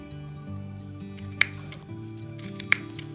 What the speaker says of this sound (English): go into the groove right in there with some sharp pointed scissors. And then you're just going to cut this just like that